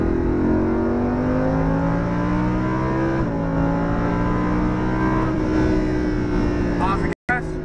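A Lamborghini accelerates hard on the race track at Homestead Motor Speedway, its engine note climbing loud and close, then briefly dropping at a gear change before rising again.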